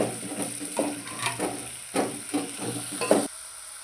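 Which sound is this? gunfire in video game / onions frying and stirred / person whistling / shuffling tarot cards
onions frying and stirred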